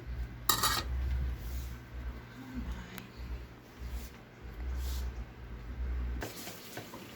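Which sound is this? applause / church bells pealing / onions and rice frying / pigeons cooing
onions and rice frying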